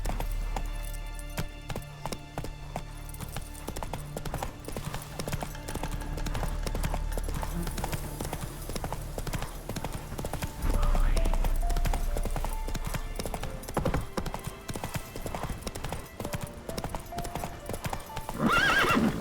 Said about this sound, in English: Run, Roach.